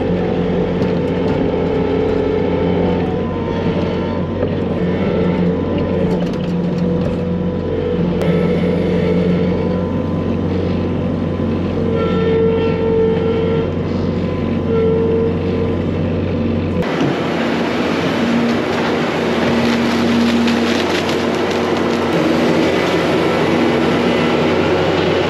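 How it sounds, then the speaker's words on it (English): Continuous heavy engine drone and mechanical clatter of a Bobcat skid steer hauling manure from dairy barn alleys into a freestall barn in winter, loud and close, shifting character partway through with no speech. "we are gonna clean out the manure from the alleys here and then just haul them with the Bobcat into the freestall barn over there"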